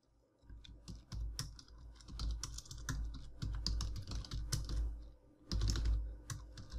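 Someone types code on a computer keyboard: quick, irregular key clicks close to the microphone, in bursts with short pauses between them.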